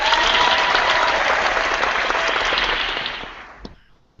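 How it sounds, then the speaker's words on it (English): Audience at a collectors chat event breaks into loud, dense applause that holds steady for about three seconds, then tapers off into a few last scattered claps. "All right, let's applaud that."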